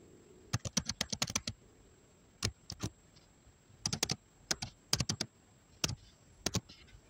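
Computer keyboard typing of a username and password onto a login page: quiet, close clacking keystrokes in short irregular bursts with pauses between them, no talking.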